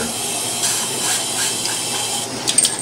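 A Cremina espresso machine's steam wand, suspected of low steam output, steams with a steady broad hiss that holds at an even level for the whole stretch, close and loud, with no one talking.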